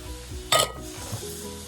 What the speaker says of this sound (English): We're going to chuck this beef mince in. And we're going to chuck this smoked sausage in too.